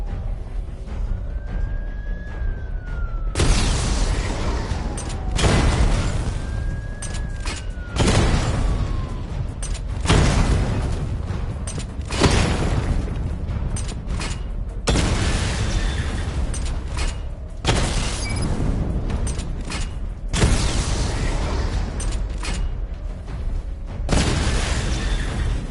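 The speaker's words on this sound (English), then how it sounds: "Charge the missile barrage to level 2 to destroy up to 4 targets at once." Missile barrage explosions in Batman Arkham Asylum: a series of heavy, loud booming blasts arriving in repeated bursts every few seconds, each with a long crackling rumble, alongside whooshing streaks.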